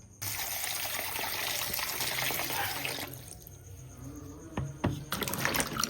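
Cut tapioca pieces being washed under a running tap, with a loud steady gush of water splashing into a sink, a quieter stretch of trickling midway, then the flow picking up again with a few knocks near the end.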